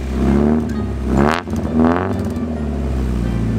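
A modified Mazda Miata's engine revs hard twice in quick succession, each rise climbing and falling over a steady, loud idle rumble, close by and with no talking.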